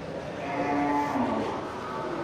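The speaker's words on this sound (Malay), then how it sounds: "Satu ekor sapi banteng ya, sapi Bali." Bali cattle (banteng) at a local livestock market moo in a long, drawn-out low call, with a steady murmur of crowd noise and background bustle beneath it.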